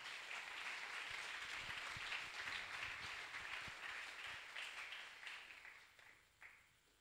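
A church congregation applauds in a sustained, even wash of clapping that tapers off toward the end, heard from a distance and fairly faint.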